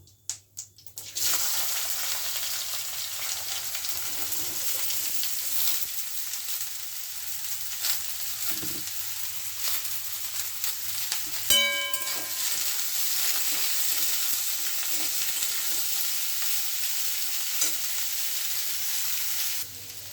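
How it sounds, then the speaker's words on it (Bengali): Vegetables for a simple Bengali dish of sosa gajor (cucumber and carrot) hit hot oil with whole cumin in a pan, raising a sudden loud, steady sizzle that keeps frying evenly throughout, with a brief clatter of utensils partway. "এবারে আমি সবজিগুলো ছেড়ে দেবো।"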